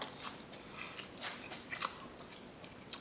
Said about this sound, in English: You get that crunch with the coconut